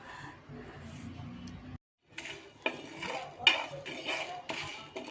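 Coriander, dried chilli, cumin and fennel dry-roast in an oil-free pan as a utensil moves them. Dry scraping and light metallic clatter come in bursts, with a brief silent gap near the middle.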